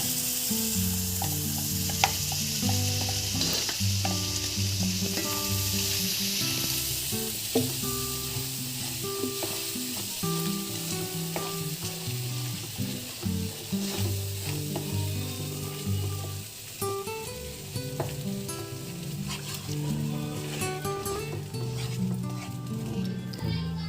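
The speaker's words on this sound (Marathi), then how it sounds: "आता हे जे आपण वाटण बनवलेलं आहे ते मिक्स करूया" Ground masala paste being stirred into a sizzling prawn curry, kolambi rassa, in a pan; a steady sizzle with light stirring runs throughout, with music playing over it.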